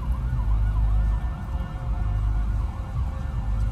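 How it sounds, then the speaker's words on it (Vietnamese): An ambulance siren wails loudly and continuously on a street, close and steady throughout, with low traffic rumble underneath and no talking. "Có xe cấp cứu chạy tới kìa."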